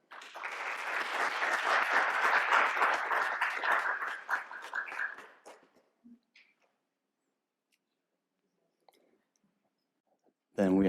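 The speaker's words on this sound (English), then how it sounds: "Let's go a round of applause for Adam." Dense audience applause at a quantum technology summit session greets a presenter, sustained for several seconds before thinning out into a few stray claps and silence. A voice begins speaking right at the end.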